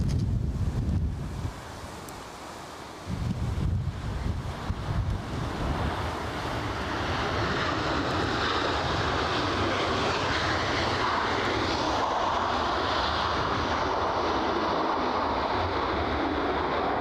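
Airliner taking off at Edinburgh Airport, a loud sustained jet engine roar building and holding steady with strong wind buffeting the microphone throughout, no voices.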